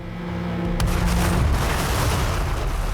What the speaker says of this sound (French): Cette explosion était totalement imprévisible et en plus, elle a soufflé le restaurant tout entier.